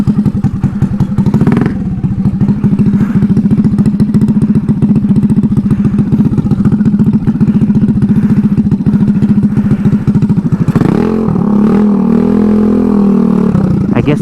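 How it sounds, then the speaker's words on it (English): A Honda Ruckus scooter with a GY6 engine and an open header pipe rumbles loudly with a rapid, throbbing exhaust pulse and clattery thumps, revving up sharply near the end. "riding around without a header for the first time."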